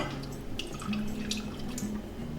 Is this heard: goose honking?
no